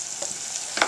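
Chopped radish added to a hot pan of golden potatoes for radish soup, giving a faint, steady sizzle with a brief louder hiss near the end as the pieces hit the oil.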